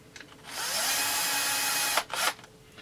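A power tool drives the bearing cap bolts on a Husqvarna 350 chainsaw, a close steady whine lasting over a second, then a brief stop and a short second burst.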